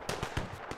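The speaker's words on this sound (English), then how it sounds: "I'm hearing shots." Gunfire in Fallout 4, a quick burst of several sharp shots in an uneven rhythm, moderately near and fairly loud, with no talk.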